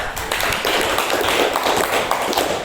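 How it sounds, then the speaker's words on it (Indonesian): A classroom of students claps their hands together, a dense and loud burst of rapid overlapping claps that holds steady without a break. "Tepuk tangan untuk kita semua"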